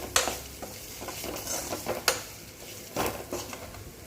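A spoon stirs spice powder into a frying pan of ladies finger kara kulambu. A soft sizzle runs under it, and a few sharper scrapes and clinks of metal on the pan stand out, all fairly quiet with no voices.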